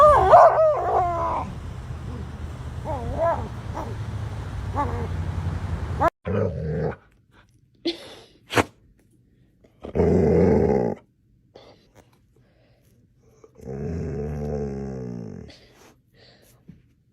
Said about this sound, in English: My psycho dog screams when he doesn't get his way.